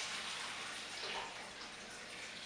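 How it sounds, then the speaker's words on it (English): Dirty water gushes out of the drain hose of a Hurricane 900 XTT floor scrubber into a slop sink, a steady, hissing wash of flowing water at moderate loudness with no voices. "225 liters of dirty water coming out of here"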